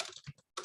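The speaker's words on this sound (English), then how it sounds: "So I can start typing my name," Quick bursts of keystrokes on a computer keyboard while entering a name into a form field, a few rapid clicks, a brief pause, then another cluster of taps, close and fairly soft.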